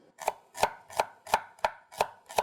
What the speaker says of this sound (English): I'm going to slice the shallot.